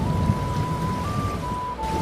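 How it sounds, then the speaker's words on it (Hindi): Heavy rain pours down in a dense, continuous wash of noise, with a faint steady tone running underneath. "हे भगवान, ये बारिश तो बहुत तेज है।"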